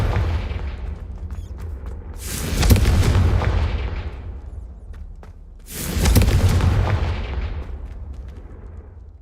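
Two heavy blasts from Confringo and Bombarda spells in Hogwarts Legacy, each a loud booming burst that rumbles and fades over a couple of seconds, about three seconds apart, with low ambient rumble between.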